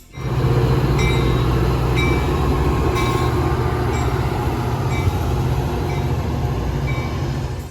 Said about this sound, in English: nothing will quite replace the sight and sound of an F40 arriving at any Metra station